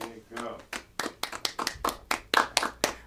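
A small live-session crowd at Conveyor claps for bassist Matt Aronoff and drummer Diego Ramirez. The claps are sparse and distinct, about a dozen close together at an irregular rhythm.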